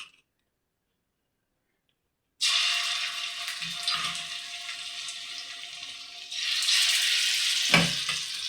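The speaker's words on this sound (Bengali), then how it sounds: "এবার আমি চিকেনগুলো ভেজে নেব" Chicken pieces frying in hot oil: after two seconds of silence a loud sizzle bursts in and holds steady, swelling again near the end with a brief clatter, close by and without speech.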